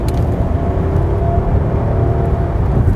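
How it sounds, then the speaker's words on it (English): A 2010 Rolls-Royce Ghost's V12 engine accelerating during a test drive, a smooth, loud, low-pitched hum and whir from inside the cabin, steady throughout with no talk. "Listen, I'm holding on too, but lean into the V12."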